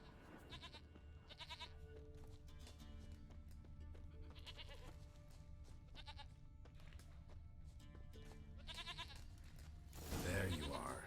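A goat in Witcher 3 bleats repeatedly in wavering, nasal cries over a steady ambient bed, the calls coming in a loose rhythm and ending with a louder burst.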